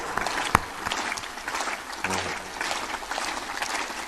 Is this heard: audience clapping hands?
yes